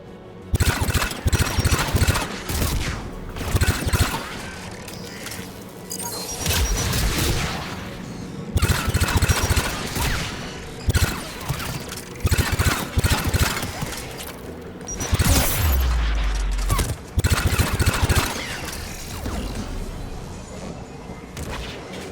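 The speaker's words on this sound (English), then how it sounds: "There, the anti-aircraft guns." Anti-aircraft guns in the video game Mass Effect 3 fire in loud, heavy bursts. Dense rumbling volleys repeat every few seconds, with a deep boom near the middle and steady battle noise between the bursts.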